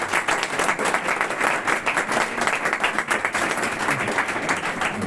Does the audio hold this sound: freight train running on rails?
no